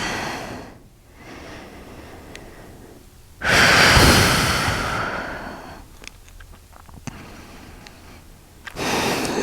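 Steady breathing during a yoga stretch, with a long loud exhale near the middle and softer inhales and sighs before and after, close to the listener with no talking.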